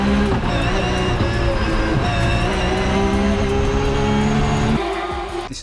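A BMW E46 M3 with an S54 engine screams near its 9000 RPM limit, a dense, loud, sustained high-revving wail that holds steady, then drops away sharply near the end.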